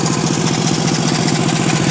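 A 20 horsepower Tecumseh V-twin on a racing lawnmower with twin carburetors and a custom exhaust runs loud and close, a steady throbbing rumble with an even, rapid pulse.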